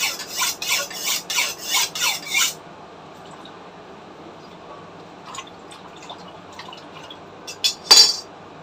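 A knife chops okra in a home kitchen, making about seven quick rhythmic cuts close by, followed by quiet and a few faint scattered knocks, with no talking.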